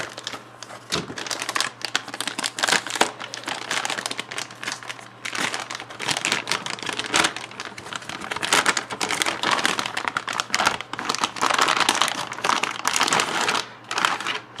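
An EVGA GTX 560 Ti 448 Core Classified Ultra graphics card being pulled from its packaging, with continuous close crinkling and rustling of plastic and cardboard, sharp crackles and bursts, and no talk.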